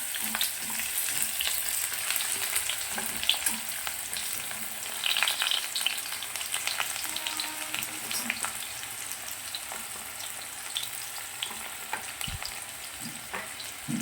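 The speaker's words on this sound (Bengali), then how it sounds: "শুকনো লঙ্কা দিলাম, কয়েকটা গোটা রসুন থেতো করে দিয়েছি, কয়েকটা কুচানো পেঁয়াজ দিয়ে দিলাম" Dry red chillies, crushed whole garlic and chopped onion sizzle steadily in hot oil over a lowered gas flame for dal tadka, a continuous bright hiss with occasional soft pops and stirring scrapes.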